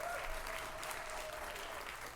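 Steady clapping from a large studio audience at a TV talk show, a continuous even wash of hands heard fairly quietly, with faint voices beneath.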